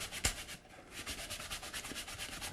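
A soft rag rubs over a wood finish in quick, rhythmic back-and-forth strokes, giving a close, soft swishing with a sharper scuff near the start.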